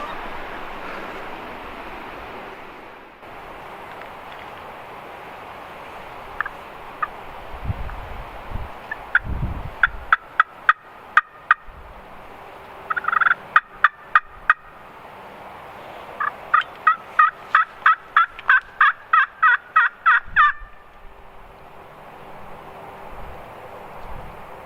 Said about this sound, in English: All right, let's shoot some turkeys.